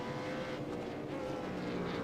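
Race cars in a 2022 Shannons NT eSeries sim-racing round pass behind a Porsche safety car, a steady mid-distance engine drone held at constant loudness with no talk.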